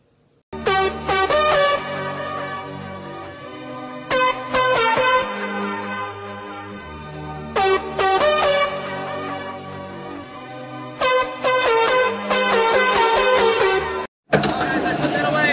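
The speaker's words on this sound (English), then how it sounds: "The album integrates car horns into funky dance beats" Upbeat dance music with rhythmic horn-like blasts punctuating the beat, playing loud and continuous, with brief drops before cutting to a short different segment at the end.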